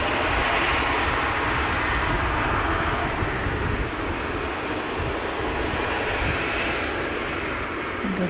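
A departing Emirates jet airliner roars on the runway, a loud, broad, sustained engine rush holding steady for several seconds with no talking.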